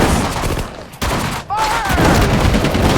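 Rapid gunfire and explosive bursts in the Sudden Strike 4 World War II strategy game, Battle of the Hedgerows, loud and continuous throughout, with a brief sweeping tone near the middle.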